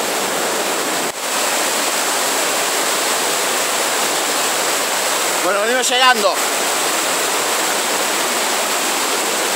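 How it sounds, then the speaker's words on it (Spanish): Steady, loud roar of a powerful waterfall in Epuyén, Patagonia, filling the whole clip near at hand, with someone speaking briefly at the start and a short bird-like chirp partway through. "Mirá la cascada, la fuerza que tiene."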